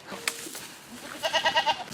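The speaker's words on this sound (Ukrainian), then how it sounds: "В господарстві Володимира Киричка до 20 дійних кіз альпійської, нубійської та заанинської порід" Alpine dairy goats approach on a farm, and a run of loud, wavering bleats follows a few brief bits of shuffling and noise.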